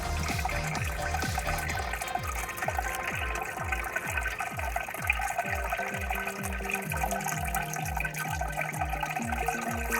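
Water circulates steadily through a toolbox sluice, driven by a pump that gives a rhythmic, repeating pulsing gurgle under a constant liquid wash, quiet and close, with no talking.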